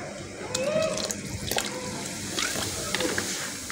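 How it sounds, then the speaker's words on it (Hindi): Chicken boiling in a pot of water with salt and vinegar, a steady bubbling and watery churn close by, with a voice talking over it. "फिलहाल चिकन के अंदर नमक और सिरका डाल के देखें हमारा चिकन बॉयल होना शुरू हो गया है"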